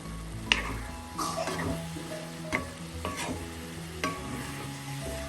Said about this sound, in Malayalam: ഇടയ്ക്ക് തുറന്നൊന്ന് ഇളക്കി കൊടുക്കാം.